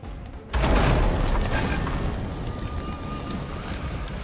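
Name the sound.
mega keg explosion sinking a galleon, from the video game Sea of Thieves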